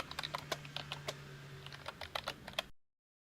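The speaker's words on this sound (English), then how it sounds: "and type in your script name." Close keystrokes tap in a quick, uneven run on a computer keyboard, entering a script name into the R console, then stop suddenly.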